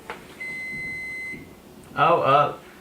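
A microwave oven beeps to signal cooked rice, a steady tone running about a second near the start, followed by a short burst of loud indoor voices.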